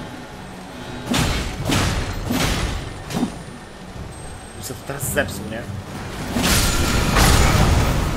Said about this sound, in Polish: jakiś strzał z balisty? Oj tak, definitywnie.